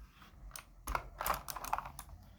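Everest Parley curved computer keyboard keys clicking in quick, irregular taps at close range, with no voices.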